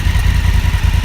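A Honda Africa Twin motorcycle engine idles nearby, a steady low, even throb with a faint clattering pulse, heard alone without any talk.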